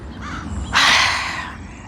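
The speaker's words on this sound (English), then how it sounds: "Y'all can just hear the birds with me." Crow cawing outdoors among other birds: faint chirps first, then one loud, harsh caw close by that fades away slowly.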